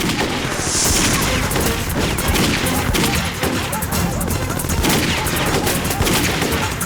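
Gunfire in a Hindi film scene: dense, continuous bursts of shots with crashing impacts fill the whole stretch, loud and close, with shouted voices briefly mixed in.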